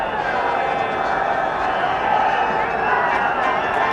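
A stadium crowd murmurs and reacts steadily throughout a 1983 World Cup cricket semi-final between India and England, a dense continuous roar with no single peak, and a commentator's voice runs over it.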